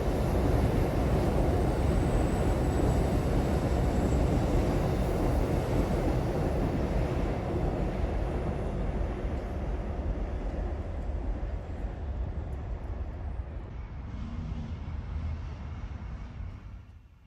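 An Amtrak train crosses the Hell Gate Bridge viaduct with a loud, continuous rumbling roar that holds steady and then thins and fades away toward the end.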